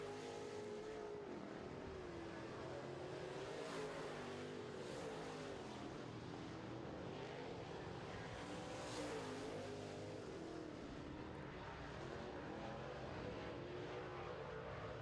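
Modified race car engines drone continuously at a distance during heat races, pitch wavering as cars circle a track, a steady roar with faint crowd-like noise behind it.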